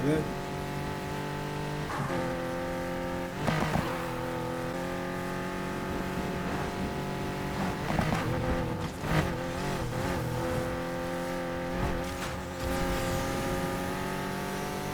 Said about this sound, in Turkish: Abi araba şöyle kayıyor ya.